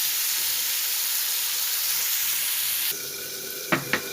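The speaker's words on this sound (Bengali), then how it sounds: "আর পটলগুলো ভালোভাবে ভেজে নেব" Pointed gourd with a little turmeric fries in a pan, giving a steady soft sizzle and hiss, followed near the end by a couple of sharp clinks as the pieces are stirred.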